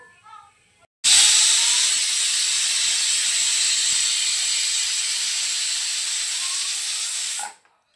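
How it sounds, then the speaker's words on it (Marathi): A pressure cooker holding mixed dal and water vents steam through its whistle. The sharp, loud hiss cuts in abruptly and holds steady for about six and a half seconds, then stops. No one speaks. "अशा पद्धतीने बघा आपल्याला 2 शिट्ट्या होऊ द्यायच्या आहे."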